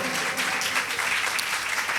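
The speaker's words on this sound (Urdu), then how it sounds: "اب یسوع خداوند کے لیے پرزور تالیاں بجائیے" A church congregation claps loudly for Jesus during a worship service, a dense, steady wash of many hands throughout, with a faint voice underneath.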